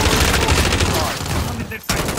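Sustained gunfire in a sniper video game, a steady dense rattle of shots close and loud throughout, easing briefly before one sharp report near the end, with faint voices underneath.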